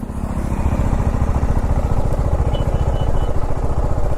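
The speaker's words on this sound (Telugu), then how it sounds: "అపాచీది స్పోర్ట్స్ బైక్." A TVS Apache RR 310 six-speed sports motorcycle idles steadily nearby at the roadside, its low engine pulse running evenly throughout with no talk over it.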